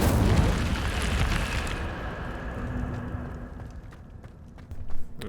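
Casting the Incendio fire spell in Hogwarts Legacy sets off a loud, deep whooshing burst of flame that roars for about two seconds and then fades into a dull rumble, with a small thump near the end.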